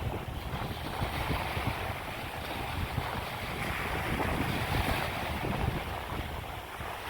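Sea waves washing onto a sandy beach at Şile, a continuous broad rushing wash with wind buffeting the microphone, fairly loud and steady.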